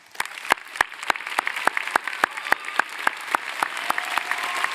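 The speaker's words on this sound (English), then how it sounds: "Graduates, please join me in one last round of applause for our amazing faculty and staff" Graduates at a high school graduation clap for faculty and staff, starting with a few sharp, distinct hand claps in a steady rhythm near the microphone, then thickening into broader applause that swells toward the end.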